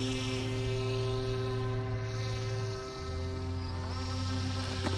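Motors on a homemade drone whine steadily at half throttle, a close, even electric hum with a pitch shift partway through and no voices over it.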